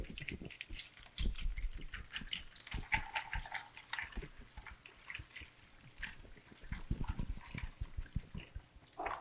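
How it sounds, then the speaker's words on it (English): Water splashes and trickles over a mesh bag of oyster shells as it is gently shaken, a busy, close, uneven wash of drips and rattles throughout. "I'm going to shake it gently, and while I do that, we're going to pour some water over it"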